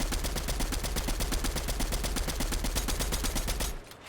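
Automatic gunfire from a first-person gun in Fortnite fires as a fast, even stream of sharp shots for almost four seconds. The burst then cuts off abruptly, with no one talking.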